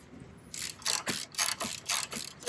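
A ratchet with a 5mm Allen socket loosens a front strut bolt on a 2007 Honda Fit, clicking in a series of quick, close bursts with short pauses between strokes.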